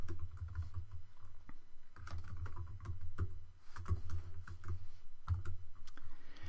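C# code being typed on a computer keyboard: steady runs of close key clicks with brief pauses, over a low constant hum.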